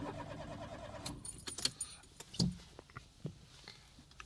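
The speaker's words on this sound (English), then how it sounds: "my car won't turn on. It won't turn over." A Citroen C1 failing to start as the key is turned, with faint jangling keys, a few short clicks and a brief weak thud close by, and no engine catching.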